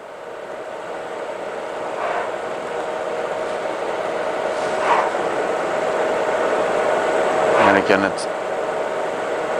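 A CNC lathe spindle hums steadily while taking a small turning cut, a continuous whirring tone with machine noise, and a voice speaks briefly over it.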